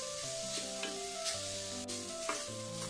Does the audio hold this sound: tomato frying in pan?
yes